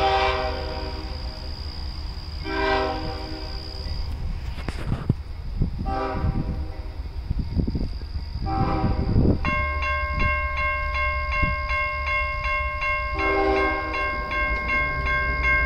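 A CSX freight train in a rail yard, a steady low rumble of rolling cars with several loud horn blasts, the last long and multi-toned, close and prominent.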